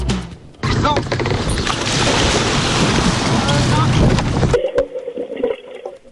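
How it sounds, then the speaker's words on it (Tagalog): A dive boat arriving at dawn at the Tubbataha Reefs marine protected area churns along with a loud, steady rush of engine, water and wind that cuts off abruptly, leaving a quieter hum. "Saktong bukang liwayway ang dating ng dive boat sa Marine Protected Area"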